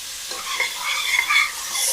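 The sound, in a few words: onions frying and being stirred in pan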